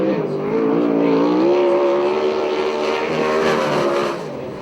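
A USAC/CRA sprint car on a qualifying lap at Perris, California, its engine a loud, sustained, howling roar that holds steady, then fades slightly as it moves off.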